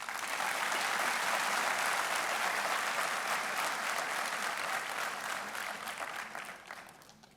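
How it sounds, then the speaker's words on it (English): Sustained applause from a conference audience at an academic valedictory session, a dense steady patter of many hands filling the room for several seconds before gradually thinning out at the end. "Please loudly clap it."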